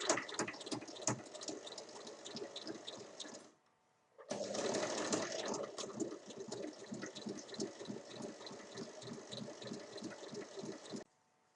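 Sewing machine running in steady bursts while stitching the long seam of a fabric smartphone case with a small tab and buckle tucked inside, a rapid needle rattle pausing briefly midway before resuming, close and fairly quiet.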